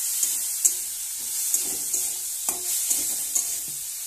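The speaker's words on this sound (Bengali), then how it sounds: "এটা দিয়ে ভালো করে কষিয়ে নিচ্ছি আমি" Spices fry in a pan with salt and chili powder, a steady hiss of sizzling broken by soft scraping stirs at irregular intervals, close up and without talk.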